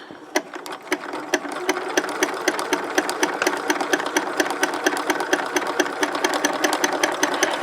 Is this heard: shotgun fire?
no